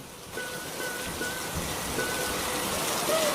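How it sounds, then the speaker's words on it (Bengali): Rain begins falling in a steady, soft hiss that grows slightly louder over a few seconds, with no voices. "তখনই বৃষ্টি শুরু হয়।"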